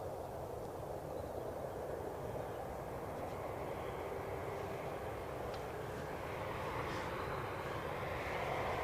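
An aircraft lands at Birmingham Airport, its engines making a broad, steady roar that swells slightly toward the end, distant and continuous with no voices.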